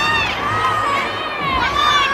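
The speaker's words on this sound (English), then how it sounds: "Excellent crowd, as it always is for Jenny Hansen and the Minnesota Golden" Loud, continuous crowd cheering and shouting fills an arena at a Minnesota Golden Gophers women's gymnastics meet against Nebraska, swelling slightly toward the end with high-pitched voices throughout.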